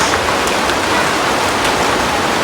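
Rain driven by wind pours down outdoors, a loud, dense and even rush of drops striking surfaces at close range, with no one speaking.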